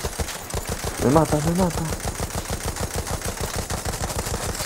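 An aircraft-mounted machine gun in the Battlefield video game fires in a fast, even stream of close, loud rounds, with a voice shouting briefly over the firing.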